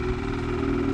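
A 2019 Ski-Doo Blizzard 600 two-stroke snowmobile engine idles with a steady, even low hum and a faint high whine, running quietly with no voices over it.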